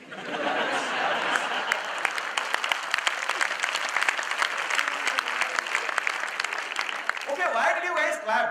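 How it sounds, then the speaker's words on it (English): Audience at a corporate talk bursts into sustained applause, dense clapping filling the room for about seven seconds, with a few chuckles mixed in before it tapers off into a voice. "why did you guys clap?"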